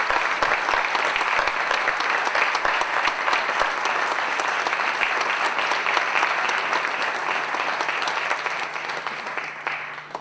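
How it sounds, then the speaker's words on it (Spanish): Sustained applause from an audience at a poetry book presentation, steady dense clapping filling the room for about ten seconds, easing slightly toward the end. "Y así nos podemos dar un aplauso para todos."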